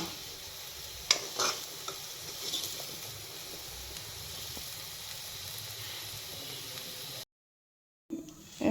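Jackfruit pieces fry crisply in a pan with a soft, steady sizzle, a few sharper crackles and clatters early on, then a short silent gap before the sound returns louder.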